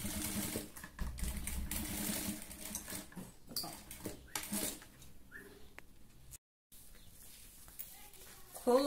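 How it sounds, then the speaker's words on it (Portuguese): A sewing machine stitches a backpack over its zipper, whirring steadily up close under a person's speech before stopping briefly, with a few clicks afterward. "numa máquina doméstica ou alguma coisa do tipo, quando passar por cima do seu zíper, cuidado, vai devagar."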